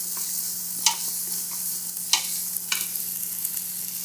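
Onions and garlic sizzle gently in a warm pan, a soft steady hiss broken by a few sharp spoon knocks and stirs, close and without talk.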